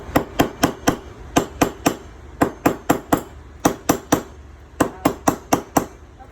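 Rapid, sharp taps of a small hammer on a silver ring ring out in quick groups of four or five, bright and close, with brief pauses between runs.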